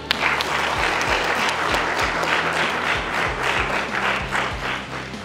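Sustained applause from a live audience at a school class event honoring Karen, dense steady clapping with some crowd noise and background music beneath, filling the whole stretch at even loudness.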